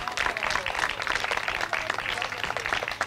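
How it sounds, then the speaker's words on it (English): An audience at a school Govardhan Puja celebration gives a brief, dense round of clapping, many hands at once, lasting a few seconds at moderate volume. "a big round of applause"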